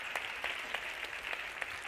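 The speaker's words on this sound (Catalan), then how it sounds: "Fort l'aplaudiment per la Rita, sisplau." Faint audience applause at a magic show during a paper-costume gala, a soft steady patter of clapping with a few sharper claps standing out.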